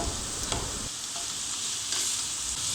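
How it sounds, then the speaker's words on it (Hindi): Shredded cabbage frying in a pan for a vegetable spaghetti, giving a steady close hiss and sizzle with a brief stirring clatter partway through, and no voices. "अब मैं इसमें बंद गोभी डालने लगी हूँ, इसे भी थोड़ा सा फ्राई करेंगे।"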